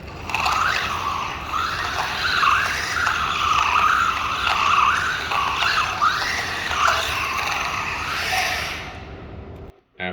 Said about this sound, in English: Took the STO out for a spin.